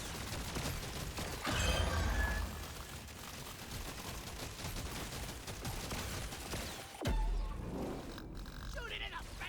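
Dense, continuous gunfire from the Deep Rock Galactic video game rattles throughout, with a heavier thumping burst early on and another near the end, under a voice talking.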